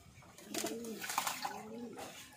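Racing pigeons bathing in water after a race give soft, low cooing calls close by, a couple of rolling coos over faint splashing and background hiss.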